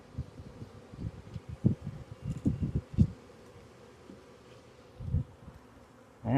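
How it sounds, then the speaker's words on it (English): A honeybee swarm buzzes close by while the hive is being worked and frames are handled, its hum interrupted by bumps and rustling bursts of movement. "Gotta get these bees out of the way."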